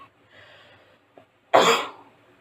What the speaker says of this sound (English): I promise the coughing won't last forever